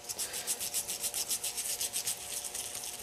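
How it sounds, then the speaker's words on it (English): Small brush scrubbing wet crud off a Hammond Model H organ drawbar, a quick rhythmic back-and-forth bristly rubbing in rapid even strokes, close up and alone. "I'm going to loosen the crud with a little brush here"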